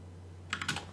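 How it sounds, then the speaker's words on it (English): A computer keyboard is typed on in a quick, close burst of several clicking keystrokes near the end, following a quiet moment. "And then you type in the name of the sort of file."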